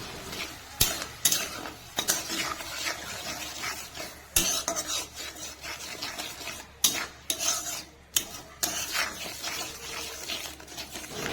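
Mutton and ground spices such as turmeric, cumin, coriander and Kashmiri chili being stirred in a pan, a utensil scraping and clinking against the metal in irregular strokes over a soft sizzle, close and moderately loud.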